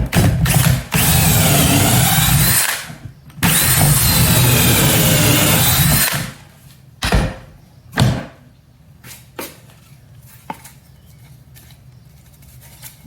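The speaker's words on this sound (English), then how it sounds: "Start drilling." A power drill whirs loudly in two long bursts into rough reclaimed wood, then gives a few short spins and clicks before falling quiet.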